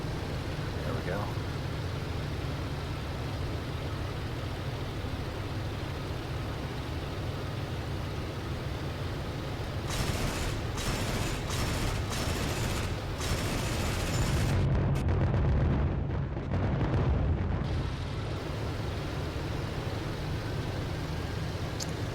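Automatic cannon and machine-gun fire from an FW190D-9 Dora fighter strafing a row of hangars in a VR flight game, heard as several rapid bursts over a steady engine roar.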